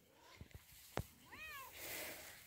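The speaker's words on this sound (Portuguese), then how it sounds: "Tava com saudade da gatinha." Cat meowing at home on a farm, a single clear rising-falling meow near the microphone after a few soft taps and a sharp knock, fairly quiet overall.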